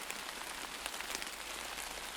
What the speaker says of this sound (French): Appréciez les qualités guérissantes et nourrissantes de la pluie qui se déverse sur la terre.